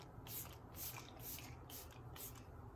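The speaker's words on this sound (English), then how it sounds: "spraying my face with my e.l.f. setting spray, the Jen Atkin one" Five short, soft bursts of e.l.f. Jen Atkin setting spray misted onto a face, each pump a quick airy hiss, evenly spaced and close up.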